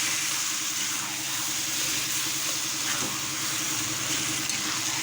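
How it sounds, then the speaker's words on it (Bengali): A sizzling curry stirred in a pan, a dense, even hiss of frying and steam filling the whole stretch, close and steady with faint scrapes of stirring beneath, and no one speaking. "এখন নাড়া দিব।"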